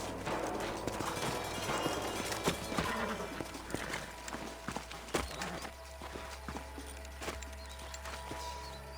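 Horse hooves clip-clopping in the Western video game Red Dead Redemption, irregular hoofbeats and tack rattles over a low ambient rumble, fairly close, with no talk.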